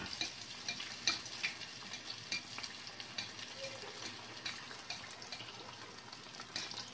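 Sfenj dough frying in a pan full of hot oil, a steady quiet crackle and sizzle with small pops, and no voices.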